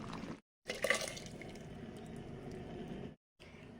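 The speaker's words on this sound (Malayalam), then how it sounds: "ഞാൻ അതിലോട്ട് പകർത്താൻ പോകണത്." Freshly boiled liquid is poured from a pot into another dish, a close splashing gurgle that swells briefly, then a softer trickle before a short silence.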